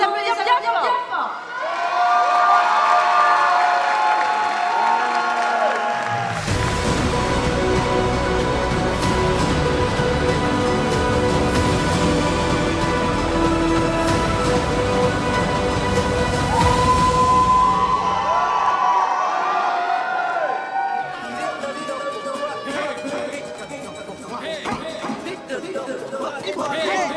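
A crowd at a cosplay contest and band showcase during a convention cheers, whoops and shouts over a loud burst of clapping and noise in the middle, with chatter and voices before and after.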